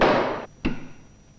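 A 1968 demonstration electromagnetic gun firing a steel rod with a copper sleeve: a loud humming buzz cuts off, then one sharp short bang follows, with a brief ringing decay.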